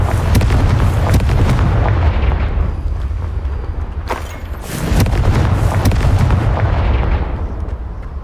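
A Confringo fire spell explodes in the video game Hogwarts Legacy, two heavy booming blasts with rumbling tails a few seconds apart, loud and close, with no talk.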